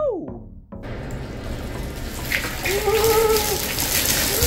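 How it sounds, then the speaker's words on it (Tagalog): Water leaking from a rusted, corroded pipe on a ship runs in a steady, close wash with a splashy trickle, and a voice talks over it. "talagang pinamahayan na ng mga kalawang yung tubo, kaya nagtututulo"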